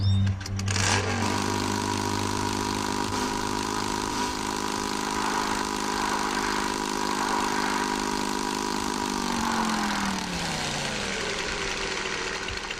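A motorbike engine idles steadily in Empyrion Galactic Survival, a low even hum running throughout before the pitch drops off near the end.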